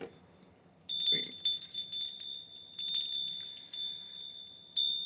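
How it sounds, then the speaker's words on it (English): A small bell rung repeatedly in short bursts, bright, clear and ringing out with decaying tones, close and loud over a quiet room background. "The reason why I ring the bell"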